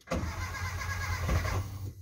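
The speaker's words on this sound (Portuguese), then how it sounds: "Vai, Juan, dá partida no carro aí, por gentileza." A VW Gol G4 engine cranks continuously, the starter churning steadily as the motor struggles and fails to catch, loud and close for the whole stretch with no talk.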